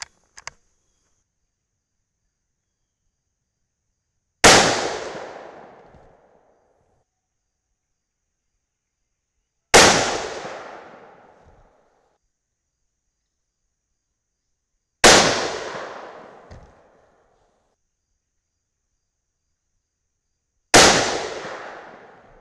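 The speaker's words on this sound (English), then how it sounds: "Let's shoot them and find out." A .308 Winchester rifle loaded with Sierra GameChanger 165-grain bullets fires four loud, evenly spaced single shots outdoors, each with a sharp crack and a fading echo between long quiet gaps.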